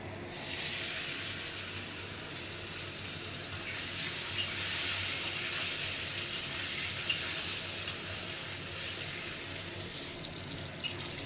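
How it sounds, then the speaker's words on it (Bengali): Cubed potatoes and pointed gourd frying in hot oil in a pan for a fish curry, giving a loud, steady hiss of sizzling that runs throughout, with only faint stirring clicks and no voice. "আমার এখানে পটল আলু ভাজা হয়ে গেছে"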